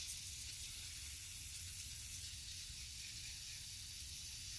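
A steady hiss of cleaner sprayed continuously onto the greased worm gear of an old window motor, close by and fairly soft, over a low background rumble.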